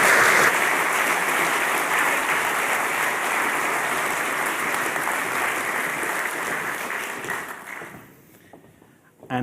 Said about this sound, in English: please, to give a very warm round of applause to our speakers